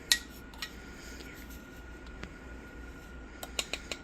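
A tablespoon clinks lightly against a container while measuring a monk fruit and allulose sweetener blend in a kitchen. Small, quiet metallic ticks come alone, one near the start and a quick cluster at the end.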